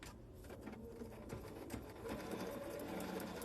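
A sewing machine stitches fabric in a steady, fast, faint mechanical whir that picks up slightly toward the end.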